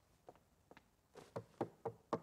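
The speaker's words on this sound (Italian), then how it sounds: "Ma chi è che bussa?" Knocking on a door, a few scattered raps that turn into a steady run of four firm knocks, close and fairly quiet, with no voices.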